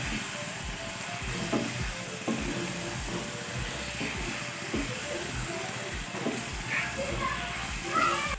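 Chicken sautéing in a pan for a Bengali dish gives a soft steady sizzle with intermittent stirring and scraping clatter, fairly quiet and close.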